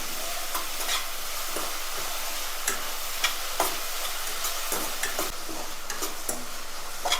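Onions sautéing in a pan for Tamil fish kulambu, a steady close sizzle with scattered scraping strokes of a spoon against the pan.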